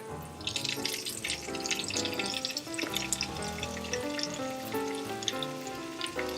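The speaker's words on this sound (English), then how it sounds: "you can hear the sizzle." A beef steak fries in a pan for a beef and broccoli stir fry, giving a soft, continuous crackling sizzle over a steady tonal hum that runs underneath.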